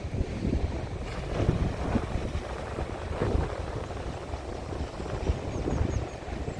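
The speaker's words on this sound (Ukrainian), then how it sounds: "Сьогодні трошки, правда, біля моря вітряно." Steady, blustery wind roaring across an open seashore in County Wexford, Ireland, buffeting the microphone with a continuous low rumble and no voices.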